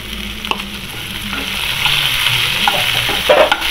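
Pirandai (adamant creeper) being sautéed with garlic, ginger and red chilli in a hot pan, a steady close sizzle broken by scraping and stirring strokes of a spatula, with no talk.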